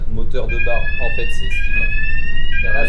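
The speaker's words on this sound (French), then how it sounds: "Oui, en fait, c'est une alarme qui est obligatoire." A dead man's watch alarm sounds on a ferry's bridge during a Marseille to Tanger Med crossing, a steady, loud multi-tone electronic beeping that continues behind French conversation for nearly the whole stretch.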